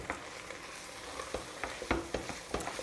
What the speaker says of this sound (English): So we fry this through